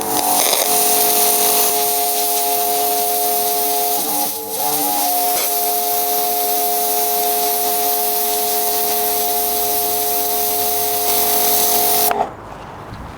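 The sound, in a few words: V-Tuf V5 pressure washer spraying with 0-degree nozzle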